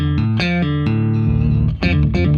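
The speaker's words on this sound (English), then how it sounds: "An octaver, but no ordinary octaver. It is the hypertune." Electric guitar run through a Polychrome DSP Hypertune octaver pedal, a loud, dense, distorted tone with thick added octave layers, played alone as a few sustained notes and chords with a short dip near the end.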